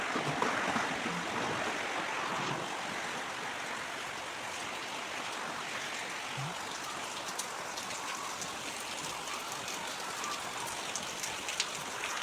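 Rain falls steadily on a wet rural day among flooded fields, a close, continuous patter and hiss that carries on evenly without pause, with no voices.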